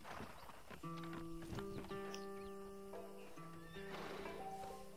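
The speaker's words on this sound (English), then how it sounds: "So we're driving our first wagon in Red Dead Redemption" A horse-drawn wagon in Red Dead Redemption rolls along to clip-clopping hooves, while a horse neighs and whinnies in several long, drawn-out calls close by.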